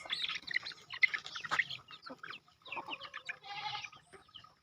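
A mother goat and her kid being fed a snack on a farm, bleating and calling in quick, overlapping bursts at close range alongside chicken-like clucks and chirps.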